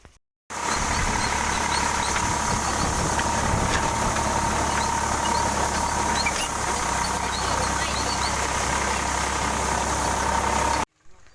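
A tractor engine idles steadily and loudly, a continuous low rumble with a faint rattle, running unchanged for several seconds.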